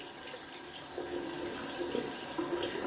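A tap runs steadily while shaving soap is lathered with plenty of water, a soft continuous trickle of low to moderate loudness with a few brief splashy swells.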